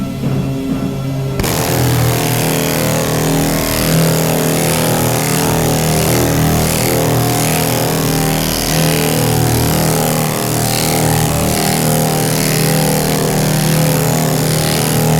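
Pneumatic air file sanding Bondo body filler on the fender flare of a 1968 Camaro, a steady loud continuous motor whir with a constant buzzing drone that starts after a brief moment and runs unbroken throughout.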